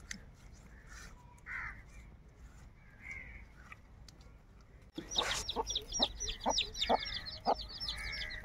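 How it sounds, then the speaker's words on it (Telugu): Crows caw overhead in a village where fish are being cut and dried, a quiet stretch giving way to a burst of repeated, fairly close calls that overlap in quick succession. "జాగ్రత్తగా ఉండాలి నువ్వు కాకులు తిరుగుతానే పైన చూడు"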